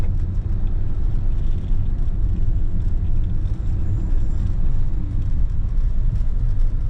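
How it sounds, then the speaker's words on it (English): A BMW E46 that sat parked for a year, its brakes sounding bad, with a continuous loud low car rumble and whirring throughout, no talk. "we're gonna need some brakes or turn the rotors or something, because it is not sounding right now"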